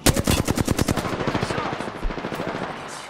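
A Devotion light machine gun fires in a video game, a rapid, loud burst of closely spaced shots that starts fast and keeps rattling steadily, with a deeper thump partway through.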